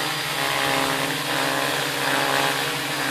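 CarbonCore Hex 950 hexacopter drone flying close by with a 10 lb payload, a loud, steady propeller buzz and whine with a strong tonal hum.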